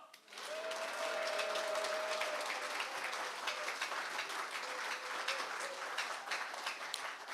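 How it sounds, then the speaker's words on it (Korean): A crowd cheers and claps at the launch ceremony of a memorial society for a Korean labor activist, a dense, sustained burst of applause with a few shouts and a whistle-like tone over it. "참석하신 여러분들의 힘찬 환호와 박수로 시작하겠습니다"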